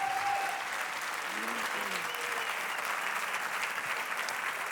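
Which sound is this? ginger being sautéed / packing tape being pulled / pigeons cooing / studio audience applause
studio audience applause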